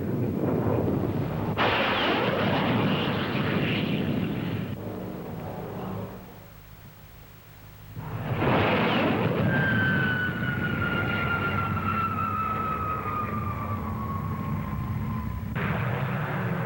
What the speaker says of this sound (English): This is the Navy's low-level strike aircraft.